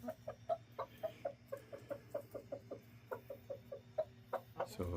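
Chickens clucking steadily in a coop run, a dense rhythmic series of short, close clucks from several birds, with a low steady hum underneath.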